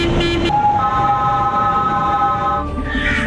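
Car horns honk in busy city traffic: a short sustained tone cuts off, then other horns hold steady tones over dense engine and street noise, fairly close and loud.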